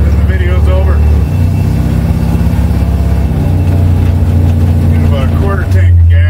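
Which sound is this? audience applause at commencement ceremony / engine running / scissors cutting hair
engine running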